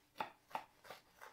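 A knife cuts through a toasted cheese and onion sandwich in four crisp crunches, evenly spaced, close and moderately loud with no talking.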